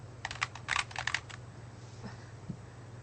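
Rapid keyboard typing on a computer, a quick cluster of crisp key clicks followed by a couple of softer isolated taps over a steady low hum, close and fairly quiet.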